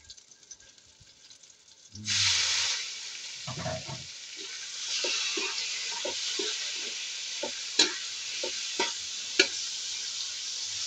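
Pork dropped into a pan of browned garlic bursts into a loud sizzle that settles into a steady frying hiss, with scattered clicks and taps of stirring.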